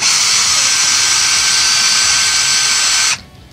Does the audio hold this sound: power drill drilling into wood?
yes